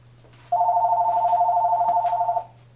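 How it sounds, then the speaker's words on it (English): Phone ringing indoors, a single loud steady electronic ring tone lasting about two seconds over a low background hum. "let me turn my phone off"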